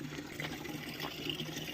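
Water gushes steadily as it is poured into a dug pit at a work site, a brief, continuous splashing fill heard up close without any speech.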